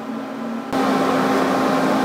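MMA stick welding with a 6013 rod and hot start: a low hum, then the arc strikes and settles into a loud, steady crackling hiss that carries on evenly to the end.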